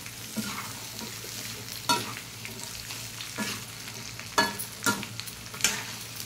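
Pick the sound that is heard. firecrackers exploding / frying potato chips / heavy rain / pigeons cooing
frying potato chips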